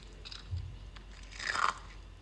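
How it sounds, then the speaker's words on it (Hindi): Crispy homemade potato chips bitten close up, giving two quick dry crunches, the second louder and sharper, in an otherwise quiet room. "इनका क्रंच सुनकर ही आपको समझ में आ गया होगा कि कितनी क्रिस्पी हमारी आलू की ये चिप्स बनकर तैयार हुई हैं।"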